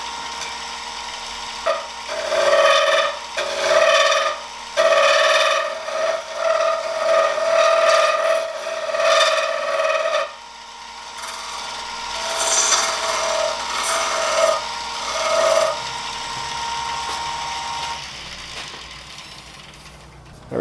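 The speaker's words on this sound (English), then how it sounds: "I'm going to put a chamfer on each one of them." Wooden shop cutoffs get their edges chamfered by hand, a series of close, raspy rubbing strokes coming in uneven bursts and tapering off near the end.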